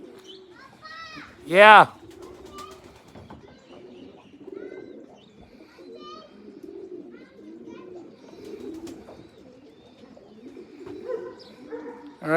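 Young racing pigeons coo softly at a loft in the rain in Hilo, Hawaii, with low repeated coos throughout, a brief loud chirping burst early on, and someone speaking briefly.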